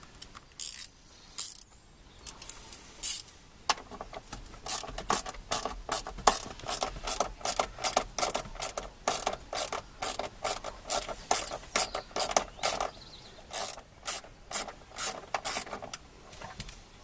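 A ratchet tightens an 8mm earth bolt with long runs of rapid clicking strokes that come close and steady, pausing briefly between pulls, with no talking.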